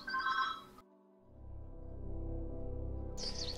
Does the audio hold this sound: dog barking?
no